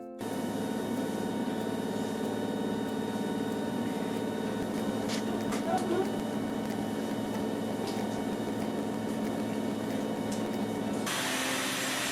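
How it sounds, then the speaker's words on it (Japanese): A household vacuum cleaner runs steadily for the whole stretch during morning house cleaning, a constant close whine with faint bumps and scrapes, cutting off abruptly near the end. "洗濯機も掃除機もうるさいね。"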